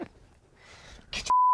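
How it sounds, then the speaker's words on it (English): A loud, steady electronic censor beep tone cuts in abruptly at the end, preceded by brief bursts of voice and faint noise. "I had to beep 3 times."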